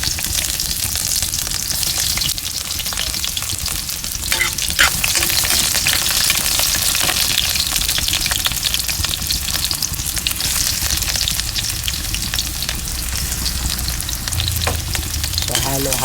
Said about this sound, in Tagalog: simulan na po natin ang ating paggisa ng ating syempre bawang sibuyas at ang ating giniling